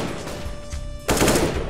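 Gunfire in CS:GO, steady faint game ambience and then a sudden loud burst of rapid shots that carries through to the end.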